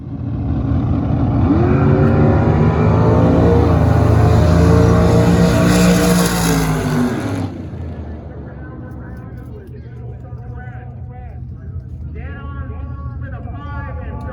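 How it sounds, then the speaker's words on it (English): Drag racing cars roar down the Irwindale drag strip at a test-and-tune session: a loud, close engine howl with rising pitch for about seven seconds, cutting off abruptly, then quieter crowd ambience and people talking. "catch this last clip of some really dope cars ripping it"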